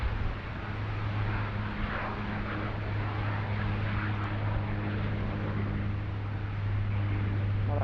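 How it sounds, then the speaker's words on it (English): A Tasman cargo plane from Auckland descending to land on runway 16 left at Sydney Airport during a thunderstorm, its engines a steady, fairly loud drone with a low hum that holds constant from start to finish. "Just diving down there into runway 16 left."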